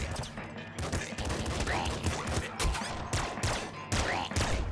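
Dense gunfire from the video game Nuclear Throne, with loud rapid shots and bursts layered into a near-continuous barrage over other game sounds.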